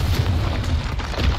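A Confringo explosive spell in Hogwarts Legacy lands as a short, dense boom with low rumbling body and noisy crackle, loud and close throughout its brief span.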